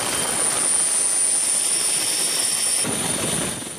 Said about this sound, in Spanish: mientras los equipos de rescate trabajan sin descanso usando helicópteros militares